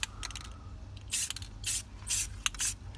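Short bursts of aerosol fabric adhesive hiss from a spray can onto a car headliner, four or five loud separate blasts about half a second each, close up, with no talking.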